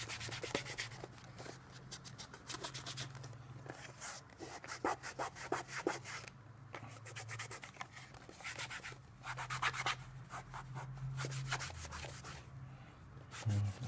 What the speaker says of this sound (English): I'll give it a spray of alcohol, try to avoid the label, And then just use a cloth just to get the excess